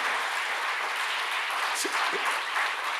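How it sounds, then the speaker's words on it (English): A room full of people gives a sustained round of applause for the management at a university department alumni meet, steady dense clapping with no talk over it. "Let us salute by giving a big round of applause for the management."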